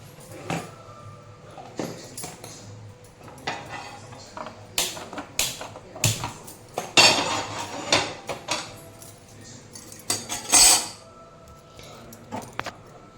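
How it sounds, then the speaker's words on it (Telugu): A griddle pan is set on a kitchen stove, giving scattered metallic clinks and knocks, some sharp and some soft, against a quiet background. "ఇప్పుడు స్టవ్ వెలిగించి పెనం పెడతాను"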